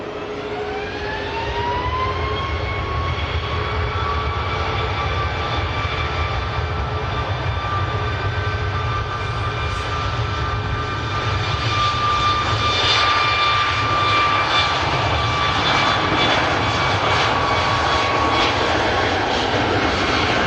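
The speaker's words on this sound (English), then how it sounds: "it'll sound good with this Ryanair departure, though" Ryanair jet airliner departing Manchester Airport, a loud, steady engine roar with rising whining tones that holds for the full twenty seconds, close and continuous with no talk.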